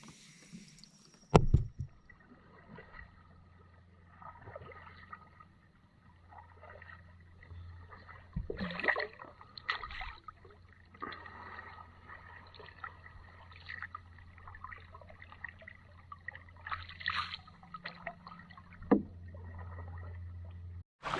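A canoe is paddled along the Perdido River in quiet surroundings, with sparse soft paddle splashes, drips and occasional knocks against the hull, close by and faint between strokes.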